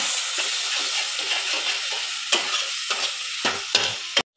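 Spices, tomato, salt, turmeric and chili powder frying in a pan for a Bengali milk rohu fish curry: a loud, continuous sizzle broken by several sharp scrapes of stirring, ending abruptly.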